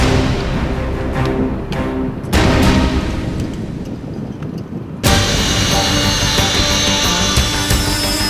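Indian Air Force Sukhoi fighter jets in a simulated air battle exercise, a loud continuous roaring engine rush with sudden swells and cuts, close and powerful throughout.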